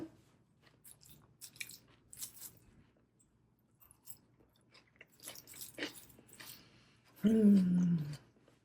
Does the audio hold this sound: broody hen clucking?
no